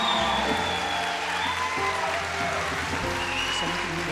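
An audience applauds steadily, a dense continuous patter of clapping, with a voice faintly heard under it.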